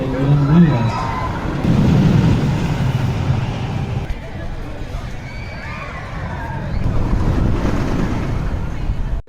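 A ride on Wildfire, the large wooden roller coaster at Kolmården zoo, carries loud rushing wind and a rumbling roar that swells and eases, with excited shouts and voices throughout.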